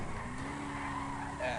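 A car in GTA 5 skids with a sustained tire squeal and engine roar, loud and continuous through the short stretch.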